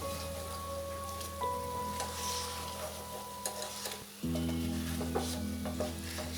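Sweet khaja pastries frying in hot oil as they are lifted out, a dense bubbling sizzle with occasional scrapes and clinks of a utensil, close and continuous.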